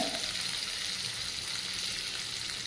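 Cumin powder, coriander powder, salt and a little turmeric fry in oil for a horse gram dal, a continuous close sizzle heard on its own without any talk.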